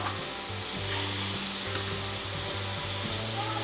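Jerk chicken wings sizzle steadily on a Chefman indoor smokeless grill, a dense continuous frying hiss with a low hum underneath, close and fairly loud throughout.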